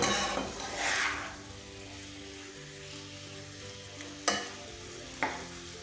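Squash being stirred as it fries in a pan: a steady soft sizzle with scraping spatula strokes, one louder clack near the start and two sharp knocks toward the end, no talking.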